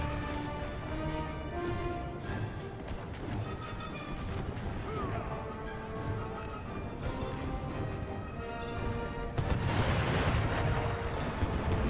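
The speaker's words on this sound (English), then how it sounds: "We've got 1 unit firing on them right now." A unit firing on the enemy during an American Civil War video game battle: a dense, continuous barrage of gunfire and booming artillery, swelling louder near the end.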